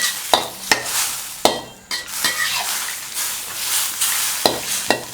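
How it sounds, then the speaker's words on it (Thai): Starch being stirred into a Thai seafood noodle sauce in a pan, sharp scraping knocks of a utensil at irregular intervals over a steady sizzle, close and clear with no talking. "ใส่แล้วก็รีบคนฮะเพราะว่าเดี๋ยว มันจะเหนียวเป็นก้อน"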